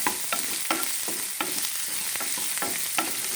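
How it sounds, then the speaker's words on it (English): Chopped onions and red chilies stir-fry in a pan, a continuous close sizzle with a quick regular rhythm of spatula scrapes and taps running throughout. "just stir this and let it cook until the onions has become soft and translucent"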